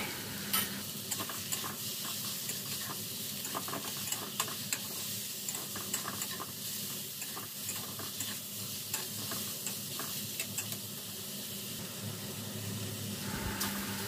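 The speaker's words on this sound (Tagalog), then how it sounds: "Then, ilagay na natin yung ating chicken meat." Chicken meat frying in a pan for Bacolod-style arroz valenciana, a steady close sizzle with frequent stirring scrapes and clicks throughout, no talking.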